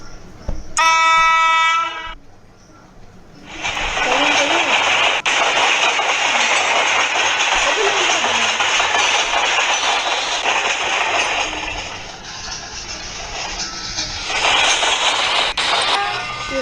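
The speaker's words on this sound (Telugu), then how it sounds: "మా ట్రైన్ అనుకుంటా మన ట్రైన్ వస్తుంది కదలనే కదలు." A train sounds a loud multi-tone horn blast early on, then rolls past close by with a sustained, heavy roar of wheels and cars that eases briefly, swells again and fades near the end.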